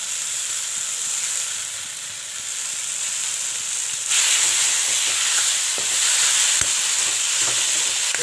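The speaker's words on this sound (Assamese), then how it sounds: "এইখিনি একদম বঢ়িয়াকৈ ভাজি ল'ব লাগিব" Boiled taro and small potatoes, with a little crushed skunkvine leaf, fry in a pan with a steady hissing sizzle and occasional stirring scrapes, growing louder halfway through.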